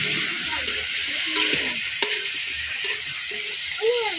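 Pork soup (sinabawang baboy) bubbles and sizzles in a pot while a utensil stirs it, with steady frying hiss and a few light clinks against the pot, close and continuous.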